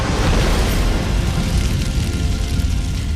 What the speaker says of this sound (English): It's detonated by a long fuse extender that sets off the explosion just above the ground.